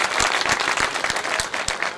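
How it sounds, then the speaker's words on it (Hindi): A crowd at a Mushaira poetry gathering in Hasilpur claps steadily, a dense, close and fairly loud wash of applause with individual sharp claps standing out, and no voices on top. "तालियां बहुत सारी"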